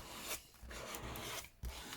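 A clogged laminator runs with a steady mechanical whirring and rubbing drone throughout, with a couple of brief louder knocks.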